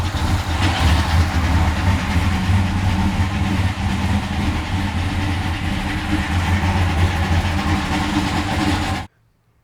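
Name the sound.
barn find muscle car engine running in garage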